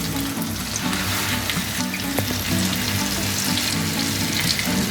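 Tandoori chicken pieces fry in butter on a flat iron tawa, giving a steady, close, dense sizzle with crackling pops that runs unbroken throughout.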